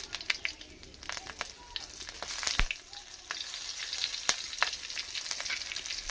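Potatoes and pointed gourd frying in oil with slit green chilies, a soft, steady sizzle with scattered crackles and occasional knocks of a utensil stirring the pan, fairly quiet throughout.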